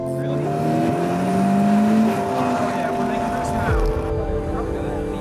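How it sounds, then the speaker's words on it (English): A turbocharged car engine drones steadily up close, its pitch climbing as it accelerates and then easing off, with road noise underneath. "took the car out for a quick test drive to see if it made boost"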